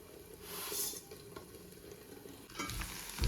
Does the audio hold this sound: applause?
no